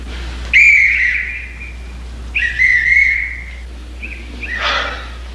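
A whistle is blown three times in short shrill blasts, the first two strong and wavering, the last fainter and breathier, with quiet pauses between them.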